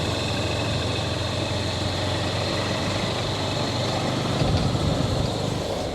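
A Honda XR150L motorcycle rides along a provincial road in the Philippines, its engine a steady low drone mixed with wind and road noise, continuous and moderately loud.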